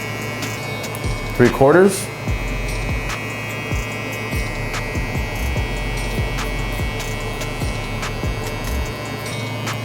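Barber's hair clippers run with the blade lever opened all the way during a drop fade, a steady close electric buzz and hum beneath a voice talking over it.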